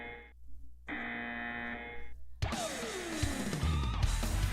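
A harsh, steady game buzzer sounds in two bursts in Blaster Master, then gives way to a louder crash and descending electronic effects of a boss fight starting.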